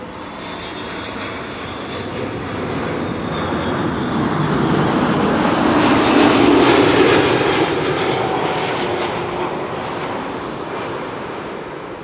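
A passenger airplane lands at Amsterdam Schiphol, its jet roar swelling to a loud peak midway as it passes nearby and then fading gradually, heard alone without speech.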